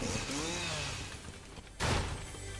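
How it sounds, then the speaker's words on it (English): A chainsaw in the Fortnite video game buzzes with a rising, wavering whine through the first half, then a sharp, loud burst of grinding noise near the end. "Ooh, I got a chainsaw."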